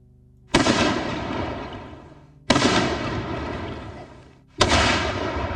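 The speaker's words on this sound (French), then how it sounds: "Des coups de feu, mais tout explose." Three heavy booming blasts go off about two seconds apart during a tabletop role-playing game, each with a long rumbling decay like explosions or artillery.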